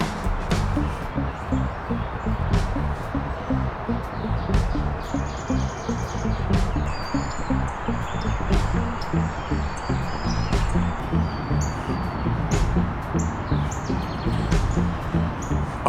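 Wild birds call and sing outdoors at a backyard birding spot, with species such as downy woodpecker and blue jay: many short chirps and tweets scattered over a steady, busy background hum, moderately loud throughout.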